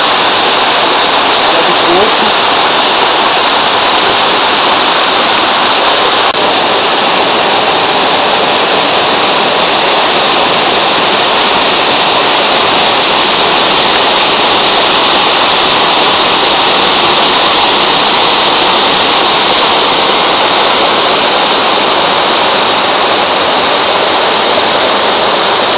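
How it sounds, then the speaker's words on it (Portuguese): The seventh waterfall of the Garganta do Silveirão canyon, a 120-metre drop, roars in a steady, loud, dense wash of falling water that fills the whole stretch, with speech over it at times. "Essa cachoeira, a sétima, ela tem 120 metros."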